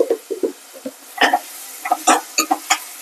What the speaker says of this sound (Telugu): ఆయిల్ వేసుకొని ఆయిల్ మరిగిన తర్వాత ఆనియన్ వేశారు